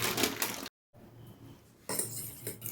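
Corn dog batter with flour being stirred in a small bowl, a spoon clinking and scraping against the bowl in bursts separated by a brief silence, close and quiet.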